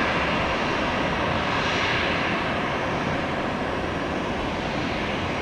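A United airliner bound for Newark taxis at an airport, its jet engines producing a loud, continuous broadband roar that holds steady throughout, heard close with no talking.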